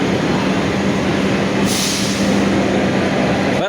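Interior of an economy-class car on the KA Cikuray passenger train with new rolling stock, a steady loud rumble of wheels and running gear filling the cabin continuously, with a brief hiss midway.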